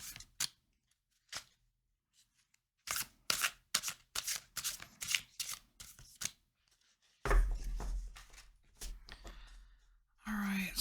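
A deck of tarot cards is cut and shuffled close up, giving bursts of crisp riffling and slapping card sounds in uneven clusters, with quiet gaps between them and a rougher handling noise near the end.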